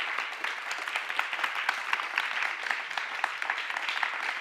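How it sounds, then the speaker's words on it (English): A crowd applauds steadily, dense clapping from many hands at an even level for the whole stretch, with no voices. "Let's give the panelists a round of applause."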